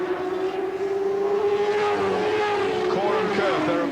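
600 Yamaha supersport motorcycles race at Snetterton in 1991, engines holding a loud high-revving whine that shifts pitch as the bikes pass, under steady commentary.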